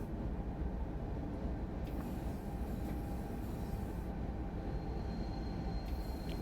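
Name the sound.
train wheel slip while braking, Train Sim World 4 video game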